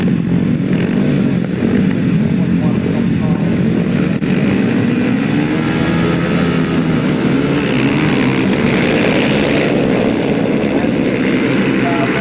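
Grasstrack racing motorcycles at the 1995 British Masters roar together at the start of a race, a dense, loud, sustained engine drone from a full field with a voice faintly audible over the noise.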